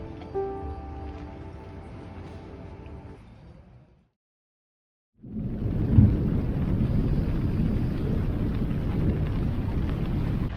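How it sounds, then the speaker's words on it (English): Thunder rumbles through a morning storm over Lake Ontario near a long pier, heard as a deep, continuous broadband roar mixed with wind buffeting after a brief silent gap. "not sure if you can hear it, but there's thunder happening"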